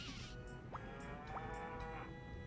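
A cow in the Nintendo 64 farming game Harvest Moon 64 lets out a moo after being brushed, a short rising tonal call heard twice over a steady hum of background game music.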